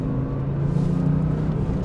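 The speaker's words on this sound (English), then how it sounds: "we are driving the 911 Porsche Carrera 4S. We are in sport mode here" Porsche 911 Carrera 4S (991.2) engine in sport mode on a back road, a steady throaty low drone with a slight swell in pitch, heard from inside the cabin.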